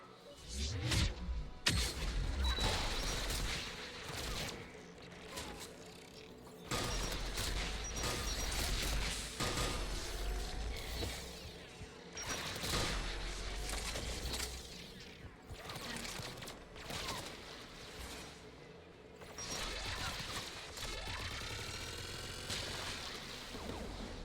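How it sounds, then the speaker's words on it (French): Rapid bursts of heavy anti-aircraft gunfire and booms in the video game Mass Effect 3 come in repeated volleys, loud and dense, with mechanical clatter between the barrages. "Les canons anti-aériens."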